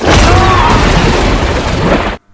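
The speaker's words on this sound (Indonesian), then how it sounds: "Dave menemukan petasan dan menyalakannya untuk mencari Sugar" A firecracker goes off in one loud, sustained booming burst that roars for about two seconds before cutting off abruptly.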